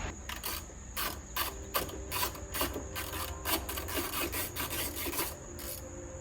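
Ratchet with an 8mm socket backing out the tail light bolts on a 10th-gen Honda Civic, giving quiet rapid clicking in uneven bursts over a constant background hum.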